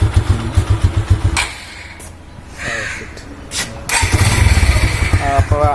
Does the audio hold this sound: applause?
no